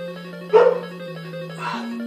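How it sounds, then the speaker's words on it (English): A dog barks once from nearby at midpoint, with a fainter second yip later, over steady tonal background music from a Super Mario Bros. 2 game. "You heard that bark? That was just my dog."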